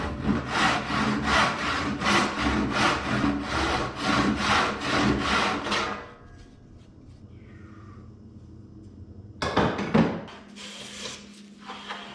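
A hand saw cuts wood along a marked line on a rickety workbench setup. About a dozen loud, rhythmic, close strokes are followed by a quiet pause and then a brief knock of wood.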